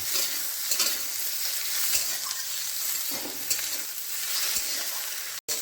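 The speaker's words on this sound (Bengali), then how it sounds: "টমেটো একটু গোটা গরম মশলাও দিয়ে দেবো" Tomatoes and whole garam masala spices fry in oil in a pan, a loud continuous sizzle with rhythmic stirring scrapes close up, briefly cutting out near the end, with no voices.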